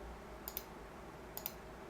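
Two quick double clicks from a computer mouse, faint and close, sit over a low steady room hum with a short pause between the pairs.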